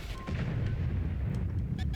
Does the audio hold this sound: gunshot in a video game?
yes